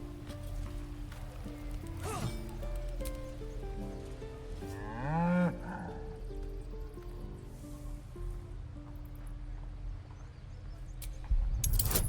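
An ox in Baldur's Gate 3 lets out a long, deep moo with a wavering rise, loud and close, standing out against a steady droning background with a few scattered clicks.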